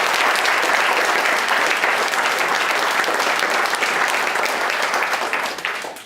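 A room full of people applauds at a presentation in Cushendall, a thick, even burst of clapping that tapers off at the end.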